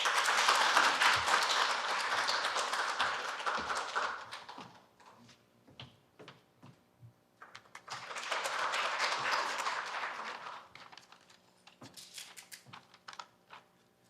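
Audience applause at a university software forum, two separate bursts of many hands clapping, each lasting a few seconds and fading into scattered light claps and quiet room tone in between.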